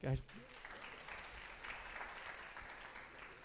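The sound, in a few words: audience applause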